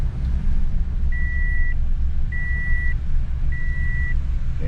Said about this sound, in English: Damn seatbelt thing going off like crazy.